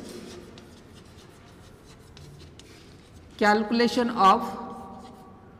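A pen scratching a handwritten working note on paper, with light, quick strokes close to the microphone, followed by someone speaking over it.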